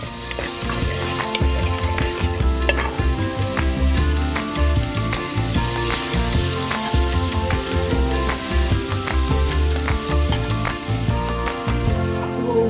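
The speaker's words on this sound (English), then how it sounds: "put some salted butter, or you can use oil, to get ready to fry up our aromatics" Garlic, onion and bell pepper fry in salted butter with a continuous dense crackle and hiss, steady and close, while music plays in the background throughout.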